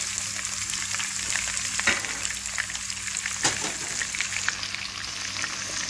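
Onions frying in a pan after garlic has browned, a steady close crackling sizzle with a few louder spatters and stirring scrapes, no talk.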